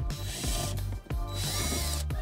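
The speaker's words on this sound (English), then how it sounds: "now we can remove the Phillips head screw" A Phillips head screw backed out with a power driver on a 2016 Honda Pilot interior panel, two close whirring bursts separated by a short pause, with no talking.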